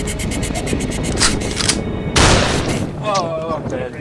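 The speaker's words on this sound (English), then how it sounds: "Got a supersonic gun here." Supersonic gun fire in a video game crackles in several sharp bursts and booms, the loudest blast midway, with a voice talking over the shots.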